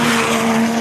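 Seat race car at a hill climb, a brief loud engine roar with a sustained tonal whine and tire noise, close and alone.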